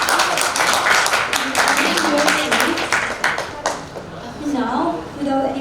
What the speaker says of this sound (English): please applause to Group 12.